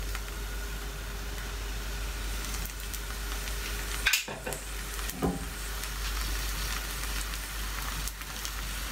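A paratha frying in oil in a pan over medium to low heat gives a soft continuous sizzle and hiss, broken by a few short scraping clatters of handling midway, with no voices.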